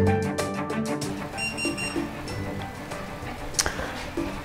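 An Anova Precision Cooker sous vide circulator beeps that the water bath is ready, a quick series of short electronic tones at the start with kitchen noise afterward.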